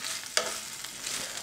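Kale with a pinch of whole sea salt gets stirred in a nonstick pan with a wooden or plastic tool, a close, steady sizzle with a few scraping strokes.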